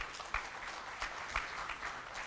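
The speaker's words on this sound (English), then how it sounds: "let's give a round of applause to the Institute" Audience applause in a conference hall at an opening ceremony: faint, brief, scattered clapping from the crowd, with no voices over it.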